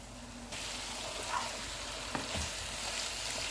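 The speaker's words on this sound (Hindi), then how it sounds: "और इसको भूनेंगे 2 मिनट तक।" Chicken sautéing in a pan for butter chicken biryani, a continuous soft sizzle with a few faint stirring scrapes and clinks, close but fairly quiet, without speech.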